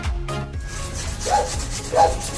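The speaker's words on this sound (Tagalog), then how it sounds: "Gumamit ako dito ng 400 grit na liha at ng tubig para mas madaling matanggal yung lumang pintura" Wet 400-grit sandpaper rubs against old paint on a car body in a few slow strokes, a soft scraping with faint squeaks, close by and without voices.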